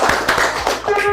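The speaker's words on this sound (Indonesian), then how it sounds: "Oke, tepuk tangan untuk kita hari ini." Audience in an Indonesian teacher-training classroom claps hands in a short burst of rhythmic, close claps, with voices mixed in.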